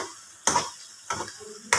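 Halwa cooking in ghee over a low flame is stirred in three quick scraping strokes, each a short sharp burst against a soft background sizzle.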